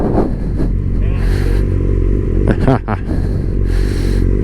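A large group ride of motorcycles including a Suzuki GSX-R, with a loud continuous engine drone close by and wind buffeting, while a rider talks over it.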